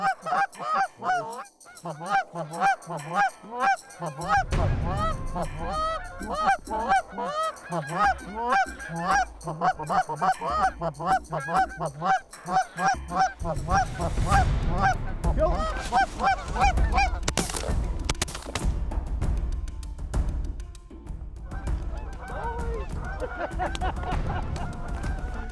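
Many geese honk loudly and continuously during a fall hunt, a dense overlapping chorus of calls with wind or rumble beneath, swelling as the flock comes close.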